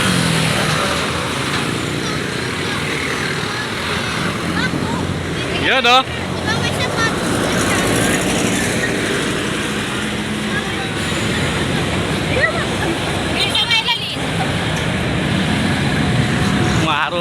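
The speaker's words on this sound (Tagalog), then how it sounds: "Traffic oh." Busy road traffic on MacArthur Highway in Malinta, Valenzuela City, a continuous close rumble of passing vehicles and engines with occasional louder bursts, while someone talks over it.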